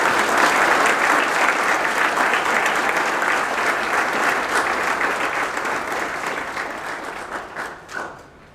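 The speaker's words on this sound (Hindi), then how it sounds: "ज़ोरदार तालियों के साथ इनका आप स्वागत करें" Applause welcoming a guest during a talk to design students, a dense, loud wash of many hands clapping that holds steady, then gradually thins and fades out toward the end.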